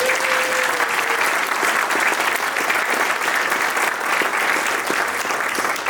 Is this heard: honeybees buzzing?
no